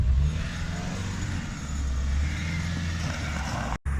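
Ford Focus engine revving through a drift tap, a low droning engine note that rises and holds, fairly close, with a sharp knock near the end and no talk.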